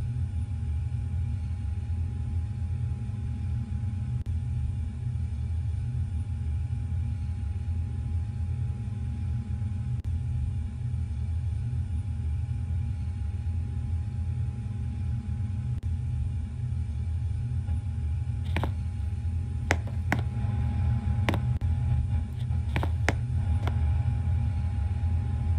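Steady low rumble of a Dash 8 airliner's engines in a Roblox cabin crew game, constant and droning, with a few sharp clicks and taps near the end.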